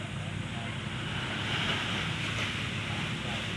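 Steady surf washes in continuously at the beach, a broad rushing roar of waves mixed with wind buffeting the microphone.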